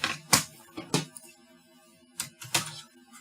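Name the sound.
typing on mini Bluetooth keyboard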